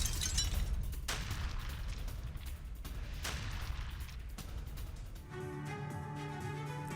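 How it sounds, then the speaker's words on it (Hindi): Missile launch during a Russian military exercise near NATO's border: several heavy blasts and roaring bursts over a constant rumble, loud and close, before the noise settles into a steadier mechanical drone. "उच्च क्षमता वाली मिसाइल को लॉन्च किया गया है।"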